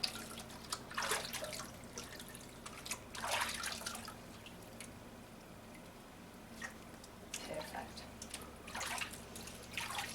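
Bathwater splashes and drips as a baby is washed in a bath, with soft intermittent sloshing bursts, close and moderate, over a quiet background hum.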